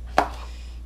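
A knife cuts once through fresh nopal cactus while slicing it into strips, a single crisp close thunk followed by near silence.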